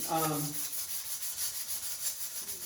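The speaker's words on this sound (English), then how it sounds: "This is going to make it a lot easier for me to sand" Hand sanding on a 1971 Monte Carlo SS454 part clamped in a vise gives a steady, close rubbing rasp with repeated strokes, a brief low voice-like sound at the start.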